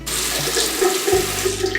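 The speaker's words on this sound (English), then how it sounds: "We still run it under water" Steady rush of water pouring from a faucet into a sink while makeup brushes are rinsed, loud and close, continuous throughout with no voices.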